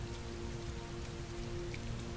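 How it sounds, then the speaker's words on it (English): Steady rain falls outside in the video game Heavy Rain, a constant dense hiss of drops on surfaces that stays even and close throughout, with a low hum beneath and no voices. "You're sitting outside in the rain."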